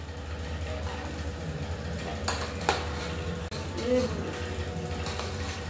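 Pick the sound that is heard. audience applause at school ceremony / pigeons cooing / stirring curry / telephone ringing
stirring curry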